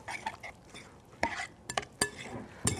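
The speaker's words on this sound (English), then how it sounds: "we're just going to stir it up" A spoon stirs oats and other breakfast ingredients together in a pan, giving a few soft scrapes and sharp clinks against the side at irregular intervals, fairly quiet and close, with no talking.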